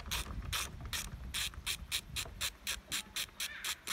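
A ratchet clicks steadily while loosening a quarter-inch plastic screw on top of a small pull-start engine, about a dozen close, evenly spaced ratcheting strokes with no voices.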